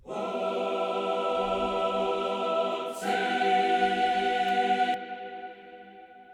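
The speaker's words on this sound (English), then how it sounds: "this is my choir reverb" Sustained choral chord with a long, washy reverb tail of about 3.8 seconds; the harmony shifts midway, then the sound cuts off leaving a fading echo.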